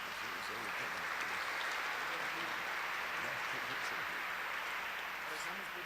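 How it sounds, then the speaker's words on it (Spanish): A church congregation gives welcome applause for a bishop, a continuous, fairly faint patter of many hands clapping at a distance, with no distinct voices over it. "Damos un aplauso de bienvenida"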